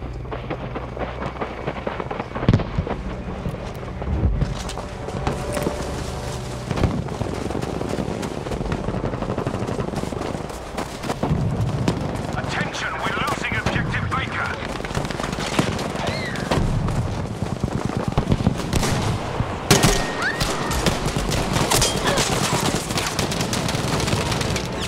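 Sustained Battlefield V gunfire on the Fjell 652 Breakthrough map, with dense bursts of automatic fire and scattered explosive cracks running continuously at close to mid range, a voice talking intermittently over the combat.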